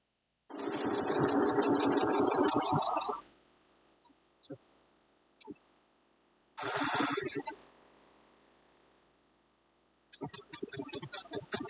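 Sewing machine stitching a zigzag buttonhole, running slowly in two loud sustained bursts with a few soft clicks between, then starting again at the end.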